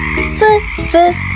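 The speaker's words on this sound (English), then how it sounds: "F is for frog," A frog croaks twice, loud and close, with sharp rising calls and no talking, heard as part of a children's alphabet song.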